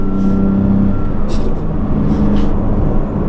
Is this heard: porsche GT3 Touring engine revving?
yes